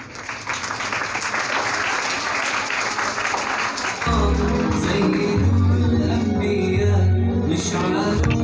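Audience applause at a school student performance event fills the first four seconds as dense, steady clapping, then continues under a loud low musical drone or beat that takes over for the rest.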